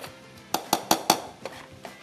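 Chopped parsley tipped into a cooking pot while making kağıt kebabı, heard as a series of bright metallic clinks and taps of utensil against pot, about seven evenly spaced strikes, close and fairly loud.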